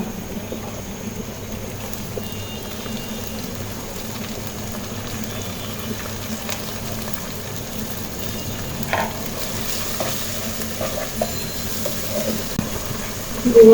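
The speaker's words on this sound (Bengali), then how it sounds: "ডালটা একটু ভেজে নিব প্রথমে।" Dal lentils sizzle and fry in ghee and oil in a pan, mixed with onions while being stirred, giving a steady close crackling hiss throughout with occasional scraping clatter near the end.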